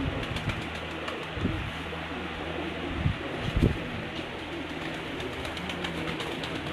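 Sialkoti pigeons coo on a rooftop, a few low throaty calls rising briefly above steady outdoor background noise.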